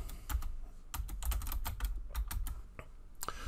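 Fingers type in quick, uneven bursts on a computer keyboard, with close, crisp key clicks and soft thumps in a quiet room.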